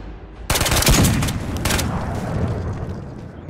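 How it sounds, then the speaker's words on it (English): Gunfire in the VR shooter Ghosts of Tabor: a sudden loud volley of rapid, sharp shots crackling out, followed by a few more reports and a lingering rumbling echo that slowly fades. "Who the hell is shooting at me like that?"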